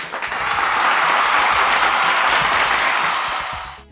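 A sustained burst of applause from a large crowd, dense and loud, swells and holds for a few seconds before tapering off at the end.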